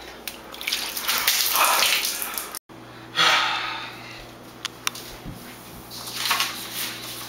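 Water running from a kitchen tap into a glass to fill a drink, a steady hiss of flow that pauses briefly and resumes, close by and alone.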